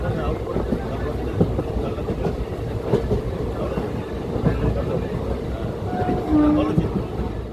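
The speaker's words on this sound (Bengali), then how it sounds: "সোমরা বাজার স্টেশন ছেড়ে ট্রেন এগিয়ে যাচ্ছে।" Sealdah-Jangipur Express passenger train pulling away from a station and running on rails, a continuous low rumble and rattle of the carriages heard from inside, with faint voices in the background.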